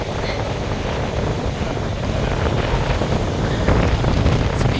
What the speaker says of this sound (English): The waves crushing against the rocks.